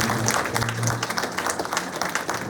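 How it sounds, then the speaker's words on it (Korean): Steady audience applause fills an outdoor opening ceremony for a charity walking event, dense clapping sustained throughout at moderate loudness with no talk over it. "박수 한번 부탁드립니다."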